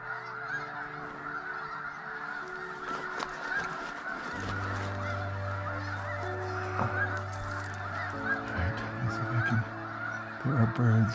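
Snow geese honk in a large flock at close range, about forty yards off, their calls overlapping constantly and loud, while a dense, noisy chorus of the birds carries on throughout.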